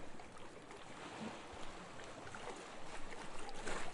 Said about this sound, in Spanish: Siente las olas.